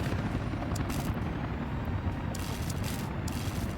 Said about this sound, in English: the helicopters, they're just everywhere.